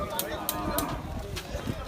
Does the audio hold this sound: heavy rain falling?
no